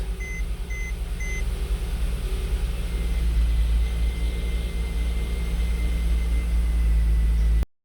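A Mercedes with a 722.9 automatic transmission idles in neutral, a steady low engine drone holding close and constant with a faint electronic beeping early on, then cutting off abruptly at the end.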